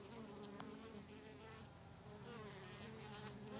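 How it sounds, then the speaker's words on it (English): Honeybees buzz at a horizontal hive entrance, a steady, close, low drone of many wings with individual bees passing nearby, continuous and without speech. "there's fewer and fewer non-pollen carrying bees between the ones coming in with pollen"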